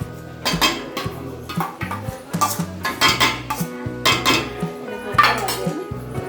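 A metal spoon scrapes and knocks against a pot while eggplant masala and tomato gravy are stirred, producing a loud, rhythmic run of clattering strokes close by, with no one talking.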